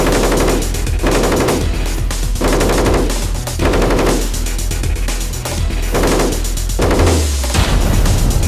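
Heavy machine gun firing 12.7x108 mm cartridges at roughly 600 rounds per minute, heard as loud sustained bursts of rapid automatic fire separated by short pauses, with no talk.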